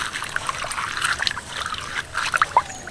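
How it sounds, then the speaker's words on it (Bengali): Drumstick and shiuli leaves are rinsed by hand in water, giving a steady run of light trickling, dripping and small splashes close by, with a few sharper splats near the end. "পাতাগুলোকে একেবারে ভালো করে ধুয়ে নেবো"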